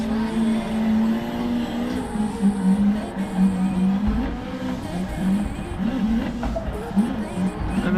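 A car drifting on the Ebisu circuit in the Assetto Corsa racing game, engine droning and revving through gear changes with a clutch kick over a hill, tyres squealing in long steady slides.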